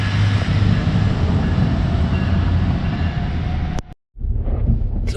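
A diesel-powered River Line light rail train in New Jersey rumbles loudly and steadily at close range with a broad roar, then cuts off abruptly into a brief silence before the noise resumes.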